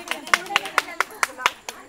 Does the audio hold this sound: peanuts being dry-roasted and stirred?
no